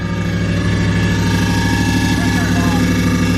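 A cammed Ram truck engine stuck at 1500 RPM, running rough and sounding bad: a steady, loud, close droning roar with a lumpy harmonic throb that holds unchanged throughout.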